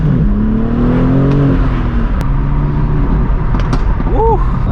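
A BMW M4 G82 with a manual gearbox pulls away from a car meet, its engine droning steadily with a low rising and falling tone, close by, while other motors run in the background.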